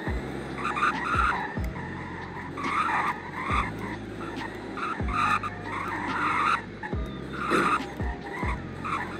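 A SpaceX-package Tesla Roadster is driven fast around corners, its tires squealing and chirping in repeated bursts with low road rumble between them, loud and close.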